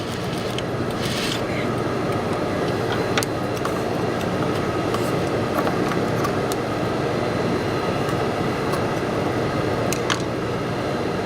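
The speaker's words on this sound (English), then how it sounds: "I'm going to stitch at 1/4 inch in my seam allowance." A sewing machine runs a quarter-inch seam in a steady, fast, continuous rattle that stays loud and even from start to finish.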